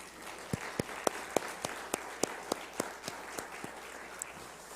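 At a church New Year's Eve worship service, the congregation offers applause heard as a fairly faint, steady series of distinct claps in a regular rhythm, with no talking.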